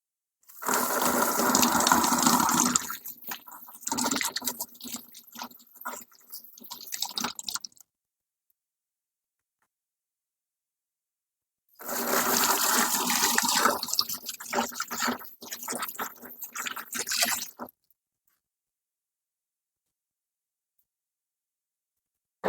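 Running water splashes and gushes over the roots of an Aglaonema plant in two long bursts, each several seconds of steady, close rushing and dripping, separated by a stretch of near silence.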